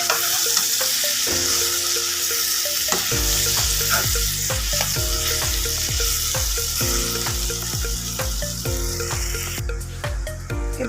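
Rice and lentils are stirred into vegetables in a cooking pot, producing continuous sizzling and repeated scraping strokes of the spoon, close and fairly loud.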